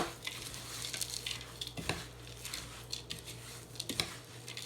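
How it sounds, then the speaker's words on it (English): Vegan granola with coconut flakes, coconut oil and maple syrup is stirred in a pan, giving a soft, steady scraping and gentle sizzle with occasional brief clinks of the utensil against the pan. "I'm going to stir it up."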